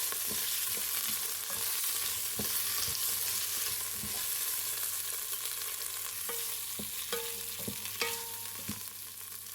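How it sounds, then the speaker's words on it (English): Tinned halved baby potatoes with spices sizzle steadily in a pan, with a continuous close frying hiss and a few sharp clicks and scrapes of stirring, no voices. "Let's give them a good fry for another 2 minutes."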